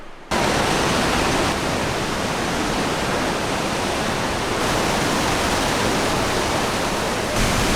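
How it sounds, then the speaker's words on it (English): A waterfall on a river beside a trail off the Cassiar Highway in British Columbia roars as a steady, loud, broadband rush of falling water, continuous and close, with no talk. "we're hiking back here to a waterfall that looked pretty cool"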